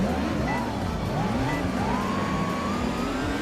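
A Ferrari race car engine in the Ferrari Virtual Race video game revs up repeatedly with rising pitch and shifts gear, loud and steady throughout with no other sounds over it.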